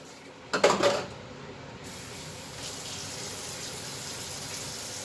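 Hot water runs from a kitchen tap, a brief clattering burst followed by a quiet steady flow that continues to the end.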